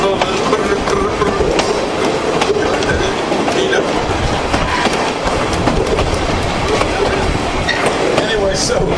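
A Saint Mary's Railroad Halloween excursion train rolls along the rails with a steady, continuous rumble and clatter, heard from onboard while people talk over the noise.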